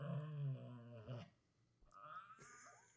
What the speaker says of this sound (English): we're still adjusting with having dogs while recording